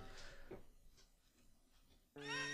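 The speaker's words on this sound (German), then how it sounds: "da kommt mal gerade meine Katze in mein Zimmer rein" A single cat meow sounds close by near the end, after a stretch of quiet room noise.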